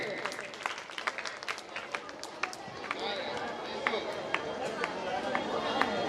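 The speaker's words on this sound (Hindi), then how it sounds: "ताली बजा दीजिए।" Scattered audience clapping at a small gathering, with distinct individual claps standing out over a murmur of crowd chatter and shuffling movement, steady and fairly close.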